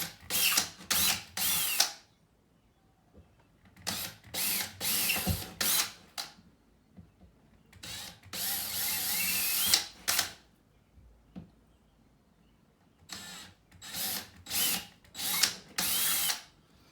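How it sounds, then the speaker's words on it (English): A power drill bores into drywall in repeated short bursts, starting and stopping in quick pulses with quiet pauses between, close and fairly loud. "get my drill bit in straight"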